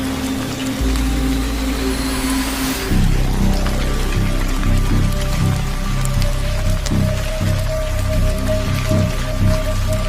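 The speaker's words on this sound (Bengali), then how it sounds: "আকাশ মেঘাচ্ছন্ন হয়ে আছে, গুড়ি গুড়ি বৃষ্টিও পড়ছে।" Light drizzle of rain as a cartoon sound effect, a steady patter that runs through the whole stretch over a low, sustained tonal drone.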